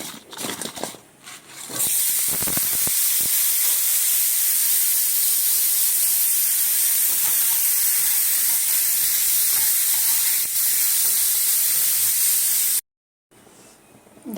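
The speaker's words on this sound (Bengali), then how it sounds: "দিয়ে আলুটাকে ভাজবো এই যে" Potatoes with salt and turmeric frying in hot oil, a loud continuous hissing sizzle that swells after a few clattering knocks at the start, then runs steadily before cutting out briefly near the end.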